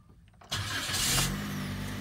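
A car engine cranks and catches after a short quiet moment, then settles into a steady, close idle; the engine is still cold, in a car that had been flooded.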